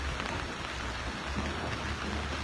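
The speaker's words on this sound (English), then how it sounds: "We all know say August, the month we normally come with plenty rains, and it just starts today." Steady August rain falls on a morning in Freetown, Sierra Leone, near the sea, a dense continuous patter with a low rumbling undertone and no voices.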